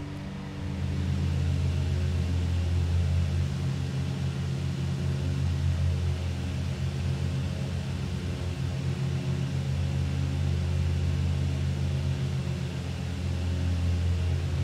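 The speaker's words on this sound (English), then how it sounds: "The throttle is fully forward, so that's the maximum manifold pressure I can get now." The twin engines of a Beechcraft Duchess BE76 run at full throttle in X-Plane 11, giving a steady, droning low hum with layered engine tones that hold constant throughout without talk.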